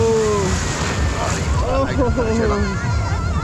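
Sea waves washing onto a beach at Mandarmani, with a steady broad wash of surf and wind under the noise, while people talk and voices chatter nearby.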